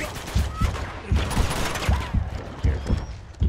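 Gunfire in Uncharted 2: Among Thieves on Crushing difficulty, mountain stage: a steady series of sharp, punchy single shots at roughly even intervals, close and loud over a busy background.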